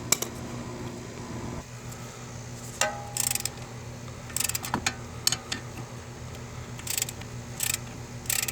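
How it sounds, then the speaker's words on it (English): A ratchet working bolts loose on the CVT transmission of a 2011-2015 Nissan Rogue, heard as bursts of quick metallic clicking spread over the clip above a steady low mechanical hum; no talking. "All right, we'll switch over to a ratchet."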